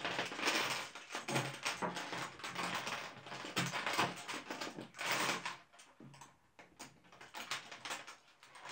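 Plastic okey tiles being flipped face up and gathered into groups of five on a table, making a steady run of close, faint clacking and clicking with brief pauses and no talk.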